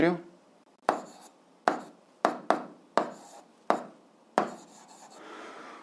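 A pen writes out a physics calculation in a series of sharp, separate taps and short scratching strokes, about eight of them in an uneven rhythm, close and fairly quiet.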